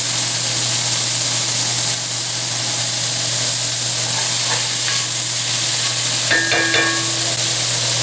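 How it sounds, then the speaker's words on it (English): Beef browns with onions and garlic in a pot, a loud, steady frying hiss close up, with a few brief clinks and a short tonal squeak near the end. "After the beef begins to brown, we add some of our onions and garlic."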